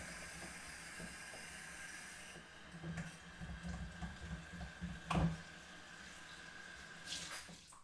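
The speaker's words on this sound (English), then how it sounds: "just trying to get water in my sink" Water from a tap runs into a sink, a faint steady splashing hiss with a few louder sloshes and bumps midway.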